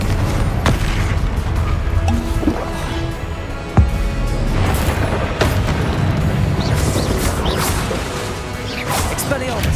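Confringo spell blasts in Hogwarts Legacy, loud booming explosions and crashing impacts recurring across a chaotic fight, one sharp hit standing out, with whooshes and a voice speaking over the action.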